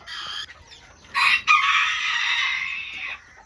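Mini Garnisé bantam hens cluck and a small bantam rooster crows in a farm pen, a short cluck burst followed by a loud, drawn-out crow up close with no talk.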